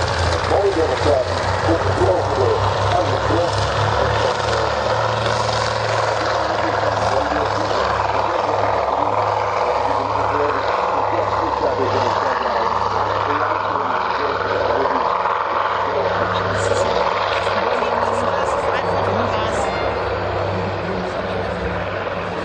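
A loud, steady drone of a PBY Catalina flying boat's propeller engines at an air force open day display carries throughout, with a low pulsing hum and no break.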